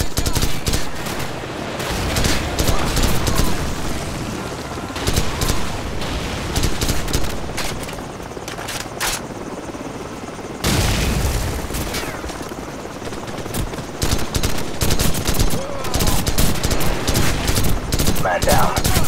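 Modern Warfare combat gunfire in Call of Duty 4 roars close and loud as dense automatic bursts and shots overlap, with a short lull midway, and shouted voices break in among the firing.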